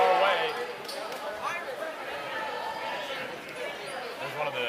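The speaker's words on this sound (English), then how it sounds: "Purusha Thaman punching it out of bounds as the ball trickles our way." A basketball bounces on the court during a high school game, its dribbles heard under crowd chatter and a commentator's play-by-play.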